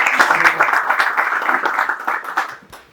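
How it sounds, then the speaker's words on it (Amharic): An audience at a tribute event for a veteran musician claps warmly, distinct hand claps close and lively, building then thinning out and fading by the end. "አጨብጭቡለት ለዚህ"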